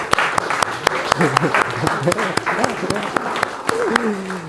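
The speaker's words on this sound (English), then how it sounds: "Round of applause." A group at Oxford University claps in a round of applause, the claps fairly sparse and distinct, while a person talks over them.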